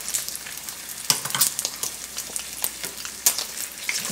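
Bacon fries in a pan with a dense, steady close sizzle, broken by a few sharper crackles and pops, no voices.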